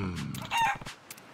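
A rooster crows in the video game Like a Dragon: Pirate Yakuza in Hawaii, a single short, loud, harmonic call lasting about a second, heard close up with no talk over it.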